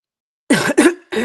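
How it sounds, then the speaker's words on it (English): Two quick, close coughs in a row, then a third cough-like burst after a short pause, with no talking. "Sorry, I didn't mean to cough."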